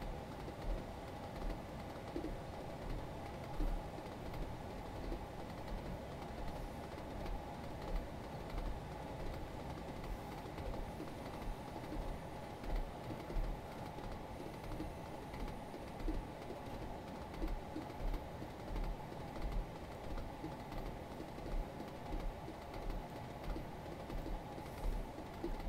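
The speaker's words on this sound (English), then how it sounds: "It's certainly a loud train, I must say." A train in the Train Simulator 2020 Lowestoft to Norwich route runs at speed with a steady low rumble and faint rhythmic clicks over the rails, quiet and continuous throughout.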